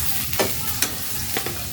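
Food sizzles and crackles steadily in a large kadai, a wok-like pan, as meat for pulao is cooked, with a few sharp spatula scrapes stirring the pan at irregular moments.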